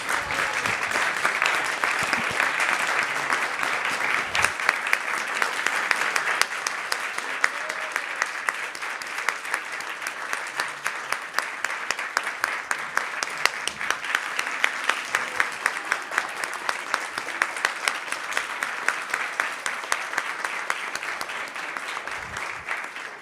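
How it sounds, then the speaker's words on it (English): Sustained, rousing audience applause during a Krishna Katha talk, many hands clapping in a thick, even roar that continues for over twenty seconds. "give him a rousing hand of applause"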